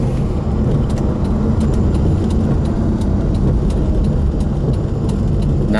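A Volvo Bertone 262C coupé drives along on a test drive, its engine a loud, steady hum heard from inside the car under broad road and wind noise, unbroken throughout.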